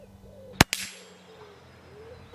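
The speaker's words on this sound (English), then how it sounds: "load one in the chamber, and let's shoot." A rifle fitted with a thermal clip-on scope fires a single sharp, loud crack with a quick echo, followed by a fading tail and quiet background.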